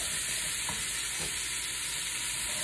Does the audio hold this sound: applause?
no